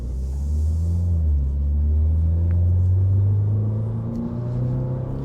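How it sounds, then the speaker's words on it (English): Toyota GR86 with a manual gearbox driving on an open road, its exhaust giving a steady, loud, boomy low drone that swells and holds under continuous engine rumble, no speech. "the exhaust sounds kind of good up top"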